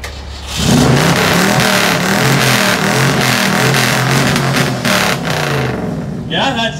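An old stock car engine at a loud-exhaust rev contest at a 2018 car show in Diller, Nebraska, revs hard and steadily close by, with a brief dip near the end and voices in the crowd.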